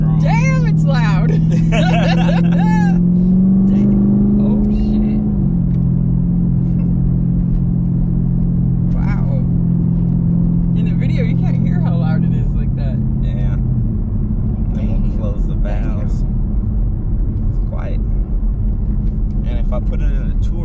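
A 600 hp ProCharger-supercharged Chevrolet Camaro SS roars loudly in cold weather, its engine drone rising and shifting pitch as it drives, with people talking and laughing inside the car over it.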